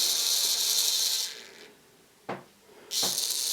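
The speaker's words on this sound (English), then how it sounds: "the motor goes through a little shunt backwards and forwards" A DCC Concepts Cobalt Digital point motor self-centering on a model railway, giving a close mechanical whir that runs, pauses, then gives two brief shunting clicks before whirring again.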